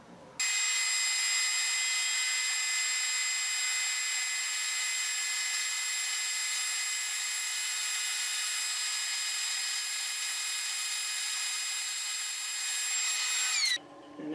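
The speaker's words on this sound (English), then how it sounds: "And that's the cut coming off the bandsaw." A bandsaw rips a roughly 7-inch-tall maple board glued to a sacrificial fence, giving a steady, loud, continuous cutting whine for about 13 seconds with no talk, then winds down briefly at the end.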